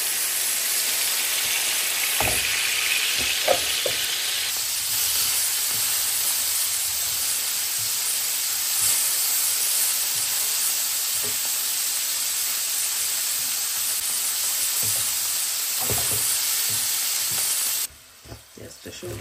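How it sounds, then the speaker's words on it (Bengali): Okra sizzles loudly in a pan, a dense, continuous crackle close up with occasional stirring knocks. It cuts off abruptly near the end, with no voices over it. "পেঁয়াজটা সরিয়ে আমি ভেন্ডিটা ভেজে নিই।"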